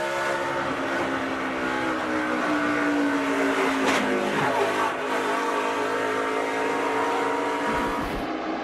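Onboard a race truck in the 2011 North Carolina Education Lottery 200, a loud engine drones and shifts pitch as the truck slides loose up the hill, with a sharp jolt of impact against the wall midway before the engine noise resumes.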